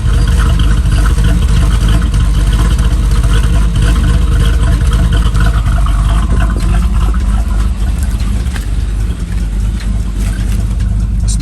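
A 1992 Chevrolet Camaro Z28 V8 with an aftermarket cam idles steadily and loudly up close, a dense continuous rumble with a faint lope and no talking.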